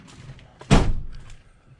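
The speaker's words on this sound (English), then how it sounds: "And I close the doors" Cabinet doors on a modular bed platform built inside a camper shut with a single solid thud, a close, loud impact that dies away over about half a second, with no talk.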